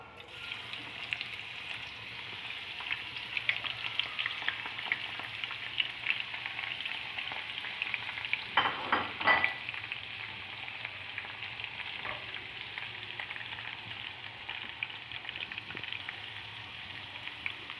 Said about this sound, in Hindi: इस प्याज को अच्छी तरीके से हम गोल्डन ब्राउन करेंगे